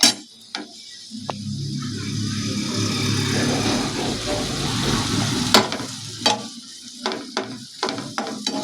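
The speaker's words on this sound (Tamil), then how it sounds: "இன்னும் கொஞ்சம் நேரம் நல்லா மிக்ஸ் பண்ணலாம்." Mutton fry sizzles in a pan as salt is mixed in, a steady hot frying hiss with sharp clanks and scrapes of stirring punctuating it.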